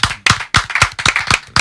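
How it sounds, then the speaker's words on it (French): An audience applauds with loud, close clapping in a rhythmic burst of sharp claps. "Je pense que ça s'applaudit."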